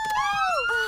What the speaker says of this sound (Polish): Ale głośna syrena!